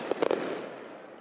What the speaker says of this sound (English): There's actually fireworks going on just as this game wrapped up.